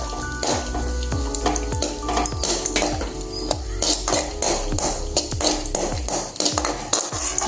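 Cashews roasting in ghee in a pan for semolina halwa, with a steady soft sizzle and repeated metallic clinks of a spoon stirring against the pan, close and continuous with no talking.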